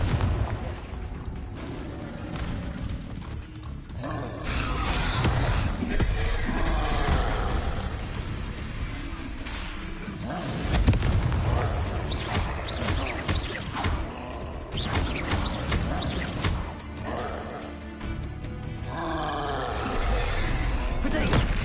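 Repeated Confringo blasting-spell explosions in Hogwarts Legacy, heavy booms and crackling impacts in dense succession amid combat noise, with a voice calling out spell names throughout.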